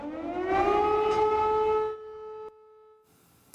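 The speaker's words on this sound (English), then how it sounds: "Air raid sirens fill the air in parts of eastern Ukraine today" A loud air raid siren in eastern Ukraine wails steadily with rich harmonic tones, then its pitch sags and it cuts off, leaving faint background noise.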